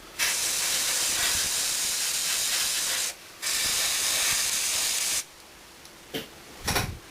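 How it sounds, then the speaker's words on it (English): An airbrush sprays thick white paint it struggles to atomise, giving long, steady bursts of loud hissing. The bursts are broken by brief pauses, then end in a few short, fainter puffs. "the airbrush is having trouble atomising it"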